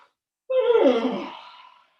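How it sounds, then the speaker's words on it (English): A single loud yawn while lunging down on one leg with the head turned to the side, starting with a sharp voiced onset and sinking into a long breathy fade, alone with no talk. "Go down on your other leg with your head to the side, yawn."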